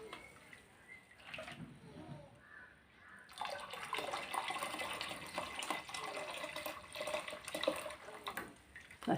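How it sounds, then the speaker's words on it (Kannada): Jaggery and ragi liquid poured and strained through a sieve for finger millet halwa, a steady watery trickle that grows louder and fuller midway, with a faint voice in the background early on. "ಈಗ ಅದಕ್ಕೆ ಇದನ್ನು ಸೋಸಿಕೊಳ್ತಿದ್ದೇನೆ"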